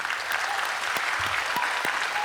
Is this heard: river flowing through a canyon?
no